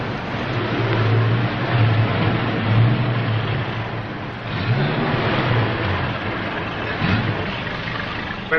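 An old Acme truck engine rumbles and revs steadily as it pulls away, a loud continuous drone with rising pulls and little else over it.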